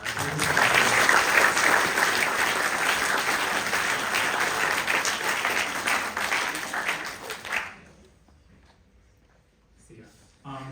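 Loud, dense applause from an audience at an awards ceremony closing a student engineering conference, sustained for several seconds and then cutting off into near silence with faint room noise.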